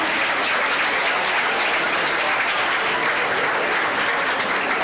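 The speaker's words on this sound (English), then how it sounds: "Let's get another round of applause for the AU team." Audience at a morning session gives a round of applause for a youth all-star baseball team, a loud, dense, sustained clapping from a large crowd that fills the whole moment.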